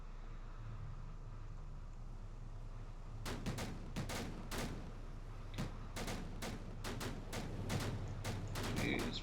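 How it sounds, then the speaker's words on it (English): A Royal Navy warship in the Victory at Sea Pacific video game fires its guns in rapid, irregular volleys of sharp reports over a low, steady engine rumble, fairly faint overall. "She's shooting her guns every which way."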